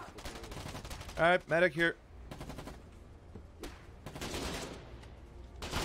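Gunfire in the wartime video game Foxhole: bursts of distant and nearby shots mixed with battlefield noise, while a voice briefly speaks over a headset in the middle of it.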